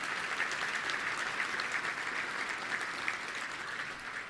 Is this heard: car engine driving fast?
no